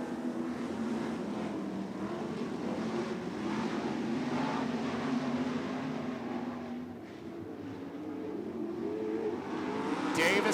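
Sprint race cars at a dirt track race off at the green flag, coming out of turn four toward the speed stripe. A loud, continuous roar of engines holds steady for the whole stretch, with no talk over it.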